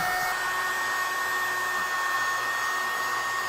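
A cheap $2 USB mini keyboard vacuum runs close up over a laptop keyboard, giving a steady high-pitched motor whine with an even airy hiss throughout and no breaks.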